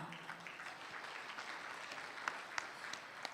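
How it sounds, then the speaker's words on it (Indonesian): Applause from an audience at a political talk show in East Java, a steady, moderately distant patter of many hands, with a few sharper individual claps standing out near the end. "Terima kasih untuk tepuk tangan penuh semangat dan kontribusi luar biasa yang Bapak Ibu berikan untuk Jawa Timur dan Indonesia sampai dengan hari ini."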